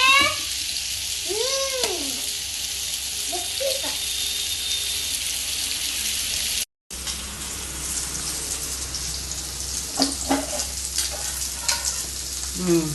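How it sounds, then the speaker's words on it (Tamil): Steady bubbling and sizzling of fish curry boiling in a pot, a continuous hiss with a brief break midway and a voice heard faintly early on. "குழம்பு எப்படி கொதிக்குது பாருங்க. நல்லா கொதி வருது."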